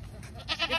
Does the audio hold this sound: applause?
no